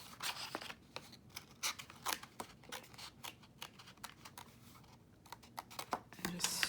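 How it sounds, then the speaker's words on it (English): Quiet, close snipping and crisp paper rustles come in quick irregular bursts as scissors cut paper for a shabby lace folio, with faint soft movement sounds between the cuts. "I think it might be easier if I just go in with the scissors."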